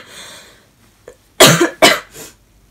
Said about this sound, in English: I cough really weird